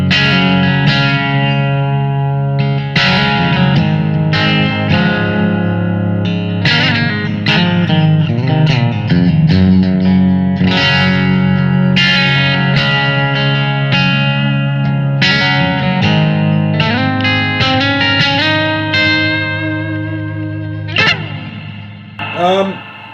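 Bright, clean electric guitar chords and single notes ring out through a Blackstar ID:Core V4 amp on its clean bright channel, played steadily and loud with a light shimmering effect.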